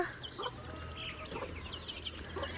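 Soft, scattered clucking from chickens, quiet and intermittent over a faint low hum, with no talking.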